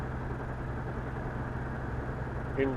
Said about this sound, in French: J'entends toujours le rayon tracteur.